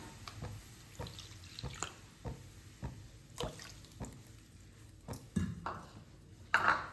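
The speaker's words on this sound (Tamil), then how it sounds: "இதுக்கு ஒன்றே கால் கப்பு தண்ணி விட்டுக்கலாம்" Water goes into a pan to make rice flour dough for kara kozhukattai, heard as quiet, irregular drips and small splashes close by in a kitchen.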